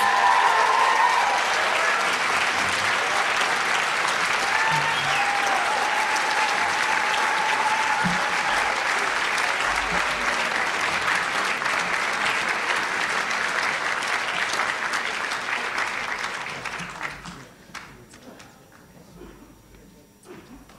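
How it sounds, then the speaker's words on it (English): A theatre audience at a grassroots political event in Oahu bursts into long, sustained applause. The applause holds steady and loud for about seventeen seconds, then trails off to a few scattered claps. "So one more round of applause for all of these amazing guys."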